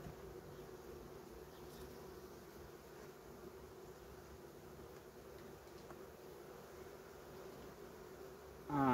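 Honeybee colony at an opened hive, a large colony close to collapse, giving a faint, steady buzzing hum that runs throughout, with no voices.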